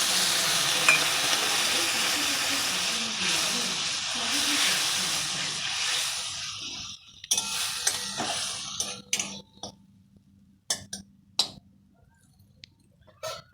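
Water splashed into spice masala frying in a pan for an egg and carrot curry, loud steady sizzling hiss for several seconds that gives way to scattered stirring clinks and scrapes.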